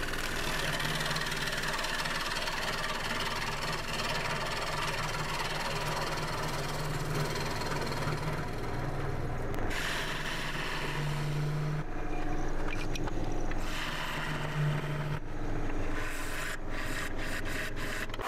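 A wood lathe turns a firewood base down to a flat surface, giving a steady machine hum and running rasp of the tool cutting wood, with brief louder scraping bursts, close and continuous with no talk.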